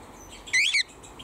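Aviary birds give a sharp burst of chirping calls, one loud, close squawking call lasting about a third of a second over quiet background noise.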